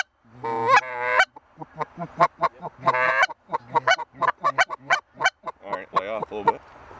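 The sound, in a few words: geese honking in flight over a barley hayfield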